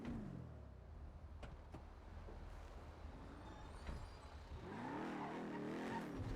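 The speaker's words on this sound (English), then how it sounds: "Something's wrong with my car." A car in GTA V on the NoPixel roleplay server skids with squealing tires over a steady engine rumble, a wavering screech rising near the end, with no talking.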